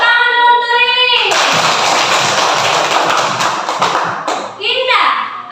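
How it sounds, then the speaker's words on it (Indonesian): Children in a classroom break into a burst of clapping lasting several seconds, loud and close, between stretches of an adult voice speaking before and after. "Tepuk tangan dulu untuk Rilin."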